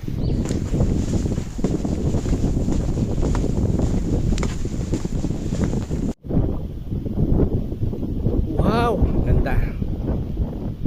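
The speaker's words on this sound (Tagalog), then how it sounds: "Sobrang lakas po ng hangin dito." Strong wind on an island roars and buffets the microphone continuously, with a brief cutout midway and a voice faintly heard under the gusts.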